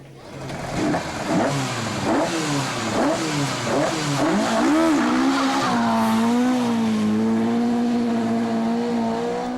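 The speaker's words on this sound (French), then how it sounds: "Ça, c'est un moteur qui respire, Georges." A historic rally car at the 2013 Ypres Rally shakedown revs hard in a run of rising and falling bursts, then holds a loud, steady high-pitched engine note, with hints of tire squeal.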